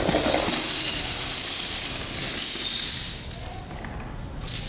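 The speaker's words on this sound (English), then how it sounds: "We got a box of 25 pounds of broken glass." Twenty-five pounds of broken glass poured from a box onto a rug makes a loud, continuous crunching shatter and tinkle for about three seconds, then a quieter trailing clink as the last shards settle.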